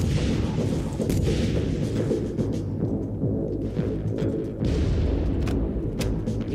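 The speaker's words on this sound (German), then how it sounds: "Und dann kriegt er erstmal eine Granate ins Gesicht." Explosions and gunfire from combat in the Far Cry video game, heavy continuous booming and rumbling with sharp bursts, loud and dense throughout without talk.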